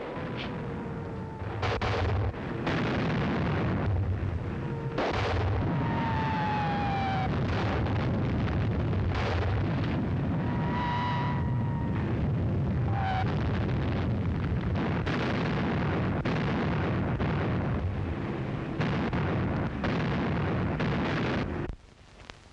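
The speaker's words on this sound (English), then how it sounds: "Another bombardment." Wartime bombardment in an old film about Shanghai: repeated heavy booms and blasts under a continuous loud rumble, with whistling shells falling between the detonations. No voices are heard.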